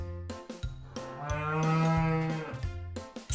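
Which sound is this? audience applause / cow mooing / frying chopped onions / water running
cow mooing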